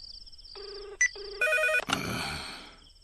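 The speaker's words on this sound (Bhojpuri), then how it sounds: "कौन पपिया है टाइम में फोन करे रे? रिंग जाता।" A telephone rings in a Bhojpuri comedy scene, a few electronic ringtone bursts that rise and change pitch in the quiet, with no voices over it.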